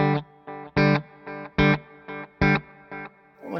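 An electric guitar played through a Wampler Ethereal delay and reverb pedal sounds clean, rhythmic chord stabs, about eight in a row, each with a short delayed echo, and no one talks.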